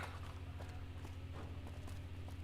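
Hooves of a cow plod through the wasteland in Fallout: New Vegas, a faint, steady run of soft clip-clop steps over a low in-game background rumble.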